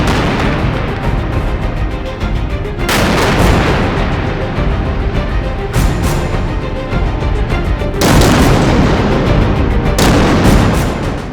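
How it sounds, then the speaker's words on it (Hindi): Air strike explosions from Israeli fighter jets in South Lebanon come as loud, booming blasts with long rumbling tails, several heavy bursts a few seconds apart over a constant roar. "वहां एयर स्ट्राइक शुरू कर दी"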